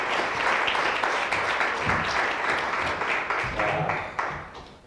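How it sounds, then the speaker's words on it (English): Audience applause for a speaker at a food-system talk, steady dense clapping from a crowd that holds for several seconds and then fades out near the end. "please give a round of applause to Karen Washington."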